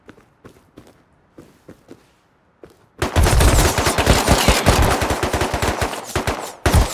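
Footsteps patter in a video game before a close MP5 submachine gun opens up in a long, loud burst of rapid automatic fire.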